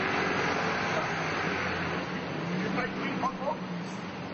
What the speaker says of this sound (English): a noisy truck makes it hard to hear